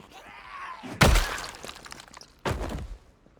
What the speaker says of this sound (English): hearing lots of banging, lots of breaking glass